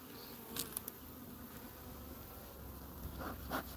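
Honey bees around an opened backyard beehive during an inspection, a soft steady hum of many wings with a few individual bees buzzing closer past now and then; fairly quiet, with no talking.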